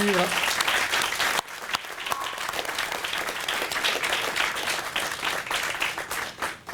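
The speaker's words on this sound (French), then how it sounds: "On peut les applaudir" A crowd applauds loudly with sustained clapping, briefly dipping then carrying on steadily to the end.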